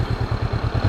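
Honda CB500X parallel-twin motorcycle engine running just after start-up, a steady low, even pulsing putter with a slightly clattery edge, close and alone.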